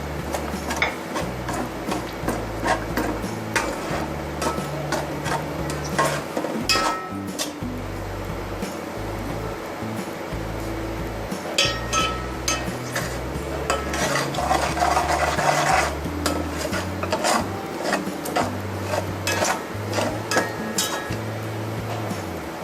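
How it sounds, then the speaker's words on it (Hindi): Masala spices fry in a pan for Lahori chikar chana, a steady sizzle laced with frequent rapid clicks and scrapes of stirring over a low rhythmic background hum, continuous and close throughout with no speech. "ये हमारा मसाला फ्राई हो रहा है।"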